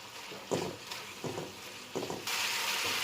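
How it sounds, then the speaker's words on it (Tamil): A pan of tomato sauce bubbles and sizzles steadily on a high flame, with soft periodic stirring scrapes and a rise to a louder, hissing boil near the end. "இப்போ அடுப்பை வந்து ஹை ஃப்ளேமில் வச்சு ஒரு 1 minute கொதிக்க விடலாம்."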